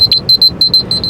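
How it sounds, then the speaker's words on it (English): An electronic alarm beeps in rapid pairs of high, piercing tones, repeating in a steady rhythm, loud and close with no voices. "my alarm's going off"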